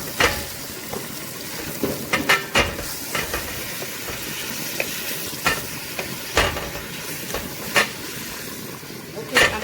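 Onions and pepper frying in olive oil for homemade spaghetti sauce, a steady loud sizzle and hiss broken by repeated clinks and scrapes of stirring.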